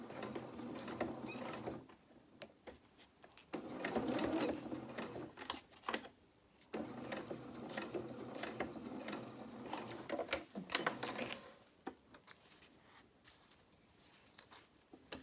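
A sewing machine runs long, big tacking stitches along the edge of a cloth doll's head, a fast mechanical whirring patter in several bursts with short pauses between, close but fairly quiet.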